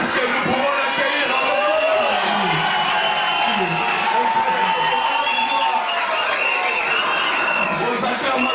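Audience at an academic graduation ceremony in Mbuji-Mayi cheering and acclaiming a speaker, with a dense, sustained roar of voices, shouts and whoops and some clapping mixed in, loud and continuous throughout.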